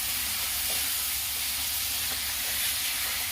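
Onion masala with coriander powder fries on a low flame for chicken curry, a steady, even hiss and sizzle with no talking.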